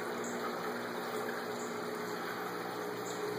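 A water pump in a 150-gallon backyard aquaponics system runs with a steady, quiet hum and a soft wash of moving water, even and unbroken, with no voices.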